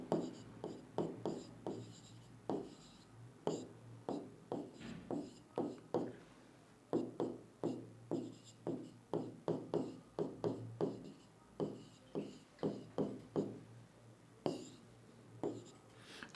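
Chalk or marker strokes on a board while a physics formula for average velocity is written, a steady series of short scratchy taps and strokes, close and distinct with brief pauses and no talking.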